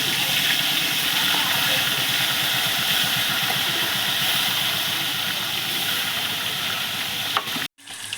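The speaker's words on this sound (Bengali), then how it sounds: "আগে আমি মাছটা ভাজার জন্য ছেড়ে দিই" Pieces of snakehead fish frying in hot oil, a loud, dense, continuous sizzle and crackle that holds steady throughout before a sudden clatter and brief drop near the end.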